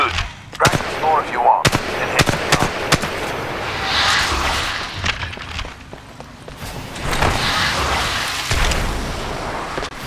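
Gunfire at practice targets on a shooting range in Titanfall 2: sharp, loud shots fired in irregular bursts and single cracks, with booming reverb and a background swell between volleys.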